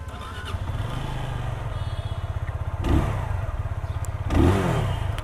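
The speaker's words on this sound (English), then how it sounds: "So that's the exhaust note if you wanted to hear, which is not bad for a single cylinder." A Benelli TNT25 single-cylinder motorcycle idles close by with a fast, even exhaust pulse, punctuated by two brief throttle blips that swell the engine note before it settles back to idle.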